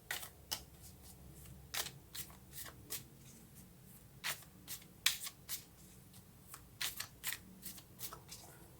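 Tarot cards are shuffled and drawn from a deck at close range, with a string of sharp papery flicks and riffles through the clip, some louder than others, over a quiet background.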